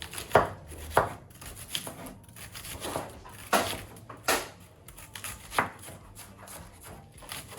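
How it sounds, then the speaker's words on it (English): A knife chops vegetables into small pieces on a cutting board, sharp, close thuds coming in an uneven rhythm with short pauses between bursts, under no talk. "Cut them up nice and small here"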